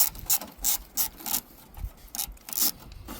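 A ratchet works a 10 mm bolt loose on the alternator of a 2013 Toyota RAV4 with the 2.5 engine, giving repeated bursts of rapid pawl clicking in an uneven rhythm, close and fairly quiet, with no talking.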